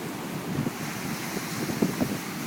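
Large ocean waves, six to eight feet high, roll in near houses on the shore during Hurricane Sandy at Ocean View, heard as a constant roaring wash mixed with heavy wind noise and no voices.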